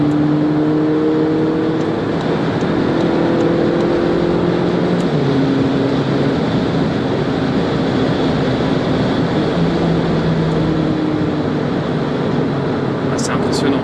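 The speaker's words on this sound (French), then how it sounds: "quand elle accélère encore" A 2018 Volkswagen Polo 6 GTI keeps accelerating from inside the cabin, a loud, steady engine drone whose pitch climbs and shifts through gears, with people chatting over it.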